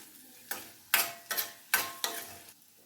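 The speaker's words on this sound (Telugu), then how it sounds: "ఈ మెంతులు కూడా ఏగనిద్దాం." Fenugreek seeds dry-roasting in a pan for a spicy Andhra red chilli chutney, five distinct scraping stir strokes in an even rhythm, close and fairly quiet, with a faint sizzle between them.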